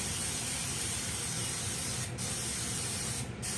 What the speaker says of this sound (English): spray it really good with coconut oil